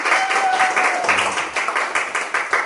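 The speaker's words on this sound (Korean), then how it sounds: "박수." A small audience claps for someone who has just qualified as a master detailer, steady close applause with uneven individual claps and a faint voice underneath.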